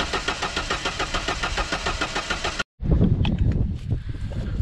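A tiny fuel-injected engine in a lawn care shop cranks with a steady, rapid starter churn for a few seconds, cuts off briefly, then catches into a rough, uneven running rumble close by.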